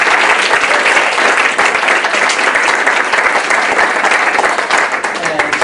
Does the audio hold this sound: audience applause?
yes